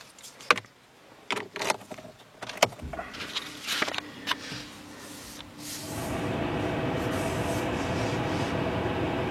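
The ignition of a 2018 Peugeot 308 is switched on inside the car. A series of sharp clicks and small mechanical ticks comes first, then the ventilation fan starts with a steady, fairly loud rushing hiss.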